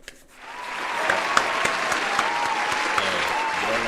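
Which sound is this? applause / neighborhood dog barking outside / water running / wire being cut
applause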